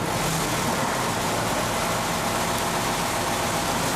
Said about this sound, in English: Start up the engine again. To minimize exhaust smoke, run the engine at idle.